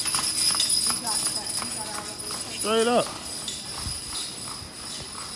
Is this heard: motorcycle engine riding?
no